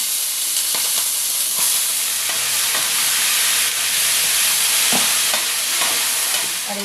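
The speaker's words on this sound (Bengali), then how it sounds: "এই সবজিগুলো কিন্তু তেলের ওপরে দিয়ে দেব।" Seven kinds of chopped vegetables tipped into hot oil in a pan, a loud continuous sizzle with occasional stirring clinks and scrapes.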